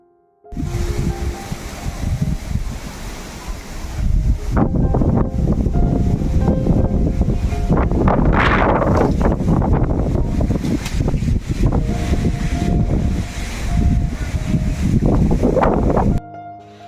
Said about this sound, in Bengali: এখানে কিন্তু প্রচণ্ড পরিমাণে ঝড় বাতাস শুরু হয়ে গেছে